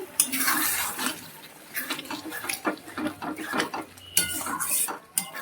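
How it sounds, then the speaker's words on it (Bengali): Paneer posto being stirred in a pan with a little water, a spoon clinking and scraping against the metal in repeated close strokes with soft wet sloshing. "সামান্য একটুখানি জল দিয়ে নেড়ে নিলাম, নেড়ে নিচ্ছি।"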